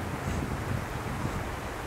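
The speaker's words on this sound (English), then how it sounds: "A little windy." Steady wind buffeting a microphone on Mount LeConte at sunset, a constant low rumbling roar with no voices.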